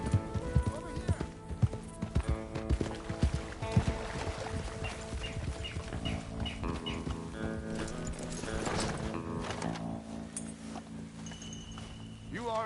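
Horse hooves clip-clop in a steady rhythm while riding in the video game Red Dead Redemption 2, moderately loud under a music score, with characters speaking over them.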